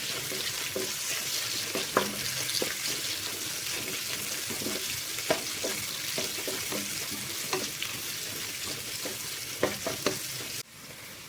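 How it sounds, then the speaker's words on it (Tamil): Onions frying with curry leaves in a pan while making spicy chicken pepper fry, a steady close sizzle running throughout with repeated scraping and stirring knocks, no talking. "கருவேப்பிலை போட்டதுக்கப்புறம் வெங்காயம் போட்டுக்கலாம்."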